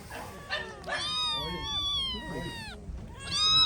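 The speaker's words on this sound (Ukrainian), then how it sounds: "Котики." Kittens at an outdoor animal market meow repeatedly in high, rising and falling cries, close and clear, over market bustle and background chatter.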